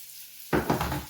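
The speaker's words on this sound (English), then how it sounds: "Next you want to just mix all that in with your spatula so it produces a nice thick sauce." A spatula stirs meatball sauce of passata and tomato puree in a pan, making a short burst of wet scraping and sizzling after a moment of quiet.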